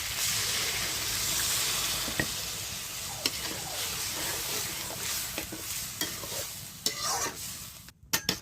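Broth goes into a hot pan of sautéed bottle gourd, potato and prawns, raising a loud hissing sizzle with scattered stirring clicks and scrapes, close up and with no voices, ending in a few sharper knocks.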